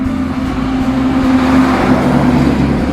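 Traffic roars along a busy main road beside a fishing spot in Pa Bua, Samut Sakhon, a loud, steady wash of car engines and tire noise passing close by, with no talking.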